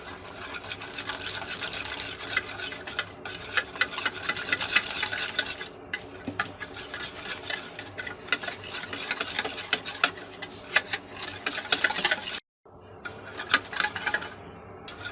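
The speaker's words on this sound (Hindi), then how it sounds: "अच्छी तरह मिक्स कर लेंगे पानी डाल के।" Gram flour batter with spices and water is stirred steadily in a bowl, with continuous wet scraping and sloshing, close and fairly loud, plus a brief pause near the end, with no talking.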